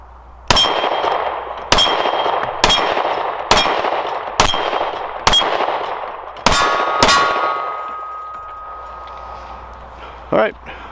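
Eight loud, sharp metallic clangs ring out as 9mm rounds from a Dan Wesson ECO pistol strike steel plates. The hits come in a quick, fairly even series, each one ringing and decaying, followed by a fainter knock near the end.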